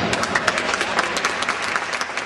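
Audience applause at a 53rd-anniversary celebration of the Sociedad Hijos de Cabranes, an Asturian society event: steady, dense clapping from a room of people, moderately loud and continuous throughout.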